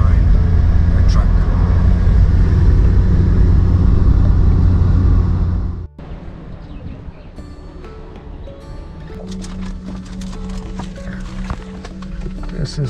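A car crawling along a road at low speed behind a truck, with a loud, steady low engine and road rumble that drops away sharply partway through, followed by quieter vehicle and outdoor sounds.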